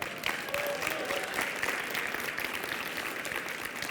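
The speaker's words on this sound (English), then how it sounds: "You can clap." A crowd at a journalism prize award ceremony claps for an absent winner, dense and continuous applause at a constant level with no talk over it.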